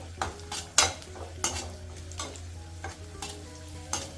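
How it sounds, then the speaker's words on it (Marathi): Raisins fry in ghee in a pan, a quiet sizzle under repeated spoon stirs that clink and scrape against the metal every half second or so, close up and without speech. "पाऊण मणुके घेतले हलकेसे परतून घेणार आहे साजूक तुपात"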